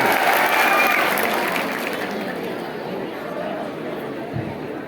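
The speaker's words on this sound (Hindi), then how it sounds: "एक बार तालियों की गड़गड़ाहट से इनका स्वागत किया जाए" Loud crowd applause at an anniversary celebration event welcomes participants, strong at first and then easing into softer clapping, with chatter and voices underneath.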